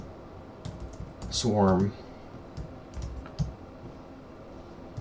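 Typing a Docker swarm terminal command on a computer keyboard: sparse, light key clicks spread across the moment, with a brief spoken word in the middle.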